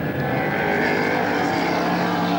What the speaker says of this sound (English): 500 plus horsepower just inches him away completely from Ward as they come down to Yokohama for the final time